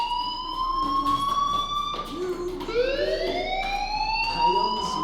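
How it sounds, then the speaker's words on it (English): A fire alarm sounds in Life is Strange, a steady high electronic tone that dips and then swells upward again, loud and continuous, with a low murmur of background noise beneath it. "do you hear that fire alarm?"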